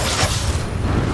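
Expulso explosion spell from the game Hogwarts Legacy, a brief loud low boom with a whooshing rush, one short blast that fills the moment.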